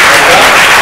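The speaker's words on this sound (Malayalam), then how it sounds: "അതിന് ഒരു നന്ദി അർപ്പിച്ചുകൊണ്ട് വലിയൊരു കയ്യടി നമുക്ക്" Audience applause fills a college Women's Day event hall, a dense, steady wash of many hands clapping close and loud throughout, with no voices heard.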